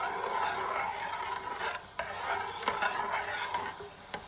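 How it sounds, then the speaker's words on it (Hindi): A spoon scrapes and stirs steadily through milk in a pan as it cooks down into homemade condensed milk, a continuous close rubbing sound with a few small knocks. "आप चम्मच बराबर चलाते जाएं"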